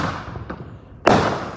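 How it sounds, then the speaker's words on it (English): Fourth of July fireworks go off with a soft distant thud, then a loud close boom with a crackling, hissing tail. "It's just these awesome fireworks!"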